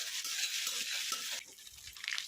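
Ginger and garlic paste frying in a pan over a lowered flame, stirred slowly: a close hissing sizzle broken by soft scraping strokes, lasting just a couple of seconds with no voices.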